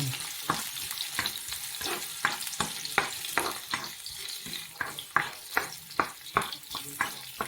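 Garlic sautés with translucent onions in a pan for chicken liver adobo with tomato, a close crackling sizzle punctuated by a quick run of rhythmic stirring scrapes.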